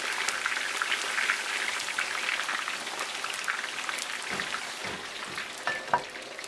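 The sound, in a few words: french fries sizzling in hot oil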